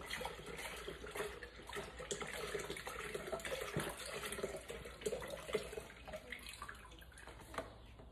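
One litre of semi-skimmed milk poured from a carton into a pot for semolina pudding, a faint continuous liquid gurgle and splash with no voices.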